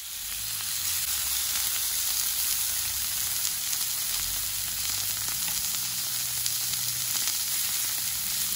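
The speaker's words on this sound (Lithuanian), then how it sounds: "mėsiuką jau kepa" Meat sizzles steadily in a frying pan, a continuous loud hiss and crackle that holds even throughout, close up, with no one talking.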